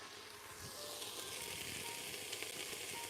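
Breakfast food sizzles steadily in a frying pan, a dense, even crackle and hiss that carries on unbroken at close range with no talking.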